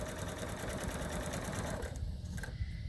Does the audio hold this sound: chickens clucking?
no